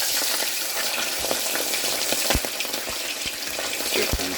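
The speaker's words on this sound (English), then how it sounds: "time to fry up some fish" Red snapper frying in hot oil, with a loud, dense sizzle and bursts of crackling, plus occasional sharp pops and splutters close by.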